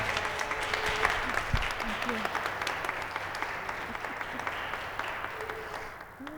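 An audience at a university lecture on the Zora Neale Hurston series claps warmly for the lecturer, sustained close applause that fades slightly toward the end while a voice briefly speaks over it.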